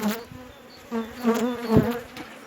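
Honey bees buzz around a queen bee box at a hive. The droning is close and wavering, rising and falling as individual bees pass near.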